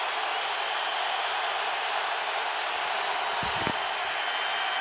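Dense, steady crowd roar fills a stadium at an NFL game between the Denver Broncos and the Indianapolis Colts, a constant broadband wash with one brief, louder low thump near the end and no clear voices on top.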